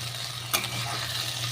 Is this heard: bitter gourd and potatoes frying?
yes